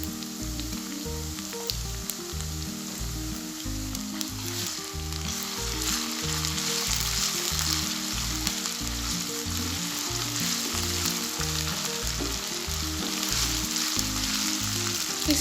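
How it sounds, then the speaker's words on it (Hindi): Ginger garlic paste fries in a pan over lightly browned onions while a chicken and capsicum curry is being made, giving a steady close sizzle with a rhythmic scraping stir repeating throughout and no voices. "इसको भी हमने अच्छे से भून लेना है ताकि इसमें से स्मेल नहीं आए।"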